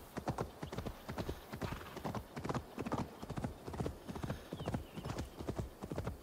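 Hooves of a ridden horse in a video game clip-clop in a steady, brisk gallop rhythm, clear and close, with no voices over them.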